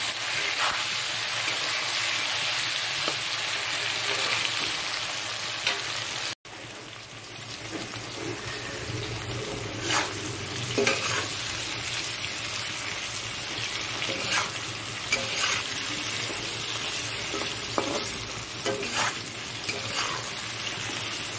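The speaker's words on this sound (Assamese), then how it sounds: "এতিয়া কলখিনি ভাজি আছোঁ। অকণমান নিমখ আৰু হালধি দিছোঁ।" Plantain pieces frying in a pan with a little salt and turmeric, a continuous close sizzle with occasional stirring clicks and scrapes, no talking.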